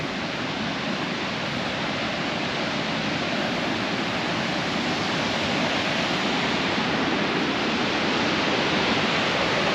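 Mahood Falls pours in a constant, dense roar of falling water, steady and loud without pause.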